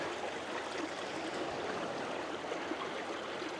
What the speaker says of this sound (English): we've got a little like creek almost, and then we've got sluice gate.